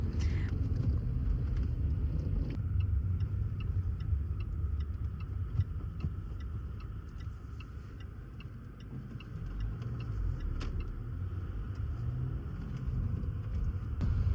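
A car drives slowly along a narrow woodland road near Bodiam Castle in England, with a steady low engine and road rumble and faint ticking throughout, close and continuous with no talking.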